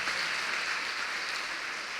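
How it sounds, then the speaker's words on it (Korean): Audience applause at a Korean Baptist pastors' and spouses' conference held in a church, a dense, even hiss of many hands clapping at steady moderate volume throughout, with no voices. "뜨겁게 박수해 주시기 바랍니다"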